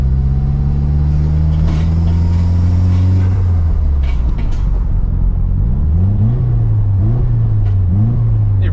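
Nissan 240sx or 300zx engine revving up and holding, then dropping back and blipping in short repeated bursts, loud and close with a steady exhaust drone.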